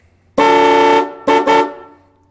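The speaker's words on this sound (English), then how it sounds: "they have that train horn sound" Cheap electric train horns wired to a vehicle battery through a relay blast loudly up close: one long, brassy chord-like blare, then two short toots in quick succession.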